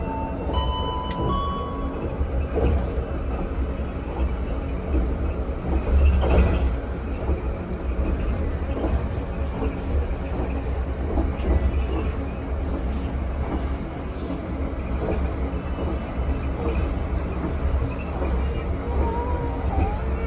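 Steady rumble and clatter inside the KA Malabar economy train running through Central Java, a continuous low drone with faint squeals, and voices talking quietly underneath.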